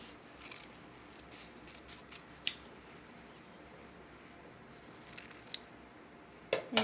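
Scissors cut yellow fabric for a shoulder bag in a few brief, crisp snips that are spaced apart and close, against a quiet room hiss with no talking.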